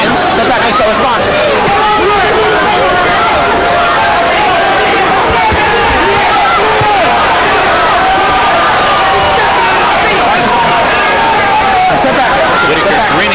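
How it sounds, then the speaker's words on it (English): A boxing arena crowd murmurs and chatters at the start of the 12th round of a fight between Pernell Whitaker and Andrey Pestryayev, a rising hubbub of voices under a commentator's continuous talk. "Crowd gets into it a little bit as the 12th round begins."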